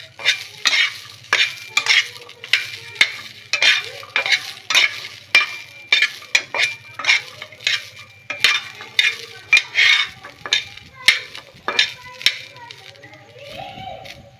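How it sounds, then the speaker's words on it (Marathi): Green chillies and garlic sauté in a pan for a pea chutney, with a steady sizzle and repeated rhythmic stirring scrapes, close and fairly loud, over a low steady hum. "मी आता याच्यात हिरव्या मिरच्या घालते आणि थोडासा लसूण। आपल्याला हे पण परतून घ्यायचे थोडंसं।"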